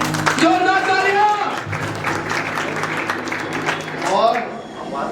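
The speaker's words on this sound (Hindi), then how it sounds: "जोरदार तालियां" Applause from a temple gathering honoring committee members at a Jain aarti and quiz event, steady clapping mixed with an announcer's voice speaking over it throughout.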